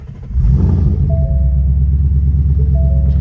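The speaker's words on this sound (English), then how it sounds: "And then now we can turn on the car" A car with a ghost cam tune starts up with a rush, then settles into a loud, steady low rumbling idle, with a faint whine running through it.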